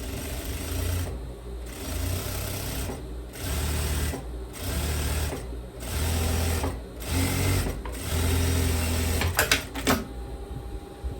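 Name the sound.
sewing machine sewing a topstitch on a kimono dress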